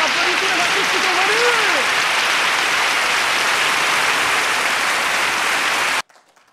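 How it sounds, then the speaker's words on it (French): An audience applauds artists at an evening show, a dense, loud wash of clapping lasting about six seconds under a voice that speaks over the start, then cuts off. "Et il faut applaudir tous les artistes qui sont"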